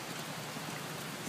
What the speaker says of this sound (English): It's still pouring out rain.